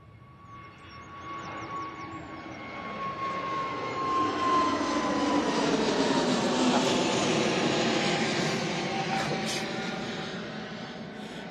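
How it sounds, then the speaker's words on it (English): An EasyJet airliner on its takeoff roll at Manchester Airport, a jet engine roar that swells over several seconds, peaks loud in the middle and then slowly fades, with a whining tone drifting through it. "Right, EasyJet on the roll."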